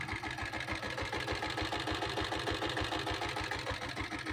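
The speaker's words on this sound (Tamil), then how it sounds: "வண்டி இன்ஜின் கண்டிஷன் பாருங்கள்." A diesel Royal Enfield Bullet motorcycle with self start idles close by, its single-cylinder engine thumping in a steady, even beat with a low rhythmic chug and mechanical clatter, no voices.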